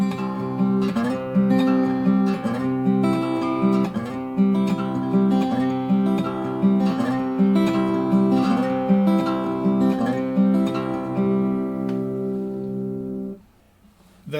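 Acoustic guitar playing the full eight-bar introduction of a piece, fingerpicked notes in a steady flowing rhythm, close and clear, ending with a brief pause.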